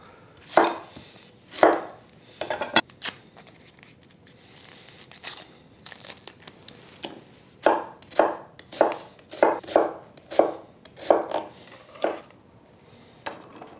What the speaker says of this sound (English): Now I need an onion, which I'm going to dice.